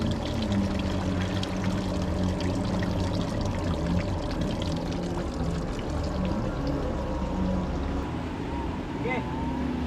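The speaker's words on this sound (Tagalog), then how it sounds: "Yun, nagsilabasan na yung mga tubig." Water pouring and gushing out of a boat beside a lake, a continuous rushing flow with a steady low rumble underneath and people talking over it throughout.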